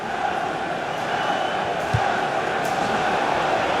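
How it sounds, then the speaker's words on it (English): Steady stadium crowd roar from a FIFA 17 football match, a continuous dense wash of cheering and chanting at even loudness throughout, with a brief low thump near the middle. "And the crowd really enjoying it"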